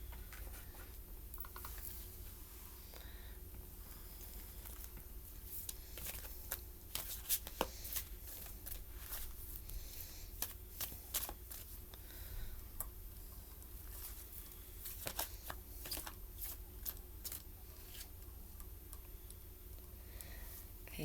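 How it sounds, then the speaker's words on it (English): Oracle or angel cards shuffled and pulled for a pick-a-card reading, giving a steady, quiet patter of riffling and soft card clicks that runs throughout with a few sharper snaps, no voice. "So, I'm going to pull a Listen for Joy card."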